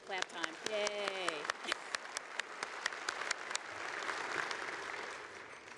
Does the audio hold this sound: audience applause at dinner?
yes